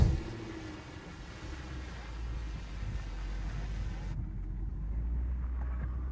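An old Range Rover in low range crawls over a steep off-road obstacle with a low, steady engine rumble that builds as it strains, with bumps and creaks over rough ground.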